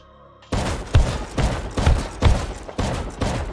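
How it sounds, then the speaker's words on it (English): Shotgun trap in the game Rust blasting at a bunker entrance: a rapid string of about six loud, booming shots spaced roughly half a second apart, close and sharp, with no talking. "the shotgun trap did not like seeing my toesies and immediately closed the bunker"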